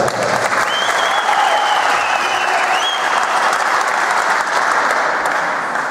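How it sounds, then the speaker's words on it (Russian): Sustained applause from an audience at a no-rules fighting event in Tver, steady and dense across the whole stretch, with a faint voice briefly audible over the clapping. "Еще раз аплодисменты"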